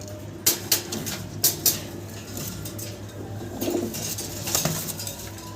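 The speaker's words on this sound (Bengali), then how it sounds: "ব্ল্যাকলেস বন্টিনেট কবুতর।" Blackless bontinet pigeons in a cage on a pigeon farm coo softly, over a quick run of sharp metallic clicks and rattles from the cage.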